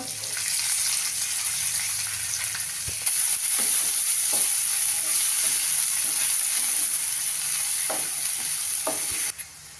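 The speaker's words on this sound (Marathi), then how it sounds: "कांदा घालूया त्याच्यावर" Onions frying in a pan give a continuous close sizzle with occasional stirring clicks and scrapes, steady and unbroken throughout.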